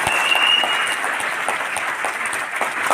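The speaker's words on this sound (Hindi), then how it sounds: "उनके लिए जोरदार ताली होनी चाहिए" A seminar audience bursts into loud, sustained applause, dense steady clapping filling the whole stretch without any voice on top.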